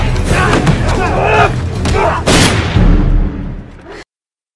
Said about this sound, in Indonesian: Suara tembakan yang dilepaskan Sheriff Miguel menghentikan perkelahian.